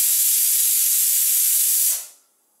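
Steam hisses loudly and steadily from a pressure cooker on medium flame while chickpeas cook for chole masala, a constant broadband rush that cuts off abruptly near the end into silence.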